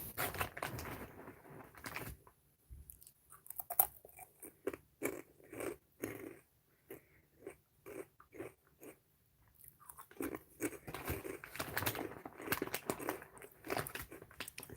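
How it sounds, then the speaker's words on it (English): Crunchy food being chewed close to the mouth, with repeated crisp bites and crackling crunches in an irregular rhythm, fairly quiet, with brief pauses between bursts. "it's crunchy when I like start chewing it."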